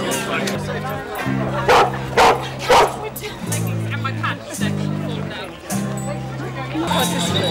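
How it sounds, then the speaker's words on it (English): A dog barks repeatedly at the Teddington pram race and fair, sharp loud yaps in quick bursts close by, mixed with whimpery yips, while crowd chatter and a nearby voice continue underneath. "Yes, loudest dog."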